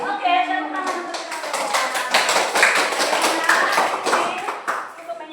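Children in an Indonesian primary classroom clap their hands together in a brisk, fairly loud burst of sharp, irregular claps that runs almost the whole time, with some voices mixed in.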